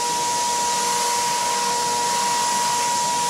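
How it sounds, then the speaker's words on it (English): A paint spray gun hisses in a steady, continuous blast while a first coat goes onto a wooden aquarium stand for a 90-gallon reef tank, close and loud with no talking. "I'm gonna spray on stuff people aren't gonna see."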